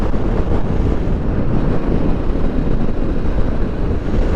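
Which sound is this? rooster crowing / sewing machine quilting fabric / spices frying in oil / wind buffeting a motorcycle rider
wind buffeting a motorcycle rider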